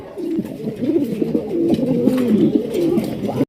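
Lahori pigeons cooing in a market, a dense overlapping chorus of throaty rhythmic coos, loud and close, continuing steadily before cutting off abruptly.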